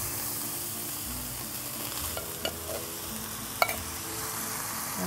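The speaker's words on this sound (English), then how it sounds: "We'll go ahead and put our tomatoes in." Tomatoes going into a pan for a Mediterranean pasta sauce with cinnamon and balsamic vinegar, giving a steady soft sizzle under a few light stirring scrapes and taps, close and alone.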